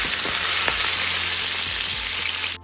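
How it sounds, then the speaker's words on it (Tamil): Garlic with dried red and green chillies frying in hot oil for a gravy of bottle gourd, a steady close dense sizzle with a few stirring clicks that drops away at the end. "பூண்டு போட்டுக்கிறேன், காஞ்ச மிளகாய் போட்டுக்கிறேன், 2 பச்சை மிளகாய் போட்டுக்கிறேன், தலை போட்டுக்கிறேன். இப்படி வறுக்கணும்."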